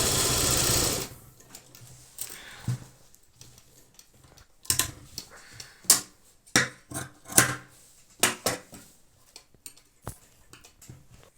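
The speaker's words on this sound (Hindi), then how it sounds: "अब हम इसमें भी अपनी फिटिंग की सिलाई लगा देंगे" Sewing machine stitching a simple kurta in short separate bursts of rapid needle clatter, each lasting under a second with pauses between, close and quiet, after a brief loud rush at the start.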